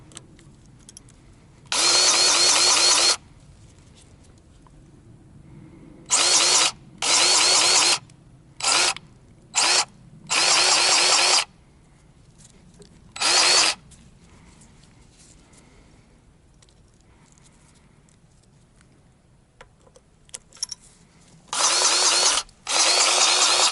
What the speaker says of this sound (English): next step is to grab the grease gun and to get to work